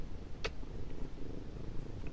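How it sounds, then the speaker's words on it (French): A black cat purrs while snuggled inside a cardigan, a soft, steady low rumble held close for the whole stretch, with one brief rustle of fabric partway through. "Elle se met à l'intérieur de mon gilet. À ronronner, voilà, c'est son moment câlin."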